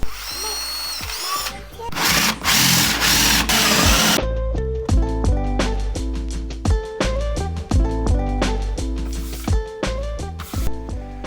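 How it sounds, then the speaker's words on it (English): An electric drill repeatedly whines into wood, drilling air holes in a campervan bed base, bursts starting and stopping in quick succession, loud and close. "last job is to drill some air holes in this so the mattress doesn't go mouldy apparently"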